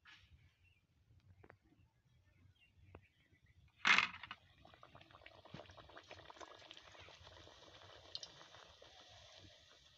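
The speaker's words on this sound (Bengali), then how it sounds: "তেল গরম হয়ে গেছে। এখন আমি এইগুলো ভেজে নেব।" Kachori made with green peas dropped into hot oil for frying, starting with a sharp splash followed by a steady, soft bubbling sizzle that runs on quietly.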